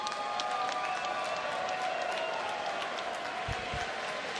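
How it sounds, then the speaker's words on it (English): An MMA event crowd applauds and cheers after a bout, a steady wash of clapping and crowd noise filling the arena, with a few voices mixed in. "let's give a big round of applause for both of these gladiators"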